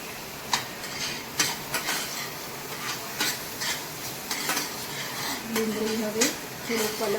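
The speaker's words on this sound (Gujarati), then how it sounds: "અને આ બધું થોડું સતળાવા દઈશું." Onion with garlic-ginger-chili paste sautéing in a pan, a soft sizzle under repeated spoon knocks and stirring scrapes, close by, with a faint voice toward the end.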